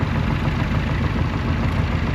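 An Australian-built Chamberlain-style A554 vintage tractor idles steadily in a grand parade, its engine giving a continuous low rumble with constant loudness throughout.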